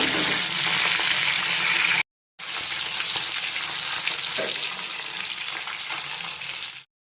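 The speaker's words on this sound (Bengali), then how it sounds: "তেলের মধ্যে মাছের পিসগুলো দিয়ে ভাজা করবো" Loud, steady sizzling of fish pieces frying in hot oil, broken by a brief silent gap, then resuming with a constant crackling hiss.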